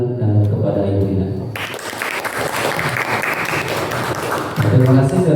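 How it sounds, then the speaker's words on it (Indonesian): Audience applause at a school dissemination event on positive culture, a broad burst of clapping that rises after a spoken introduction and fades back under a voice near the end. "Untuk audiens beri tepuk tangan kepada Ibu Nina"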